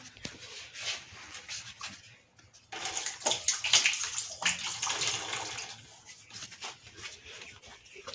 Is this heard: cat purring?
no